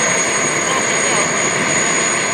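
A model Avro Vulcan jet aircraft on landing approach at a model airshow gives a steady, loud engine roar with a high whine on top, constant throughout.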